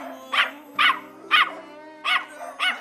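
A dog gives five sharp barks in a steady, evenly spaced rhythm, fairly close, over a low constant hum and no talking.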